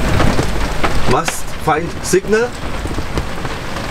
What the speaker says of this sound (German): Und jetzt regnet es auch gerade wieder.